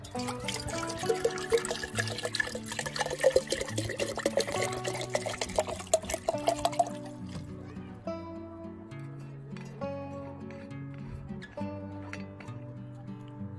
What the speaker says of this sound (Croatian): Uzmete 1 litru mlake vode.